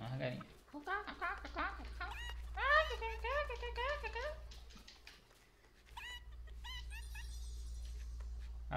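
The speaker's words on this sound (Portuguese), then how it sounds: "Galinha, galinha." Chickens in the video game Lego Fortnite cluck and squawk in quick, rising bursts, fairly close, overlapping at times, with a low steady hum underneath and brief quieter gaps between flurries.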